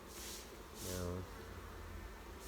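Honey bees drone softly during a beehive inspection. A faint, steady buzz is briefly joined by a louder tonal hum as one bee passes near.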